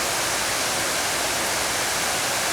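Water pouring from the Vigeland fountain bowl held up by six sculpted figures, a dense, even rushing hiss that fills the whole clip at close range, with no voices over it.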